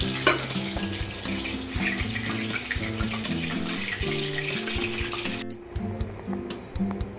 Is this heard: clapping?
no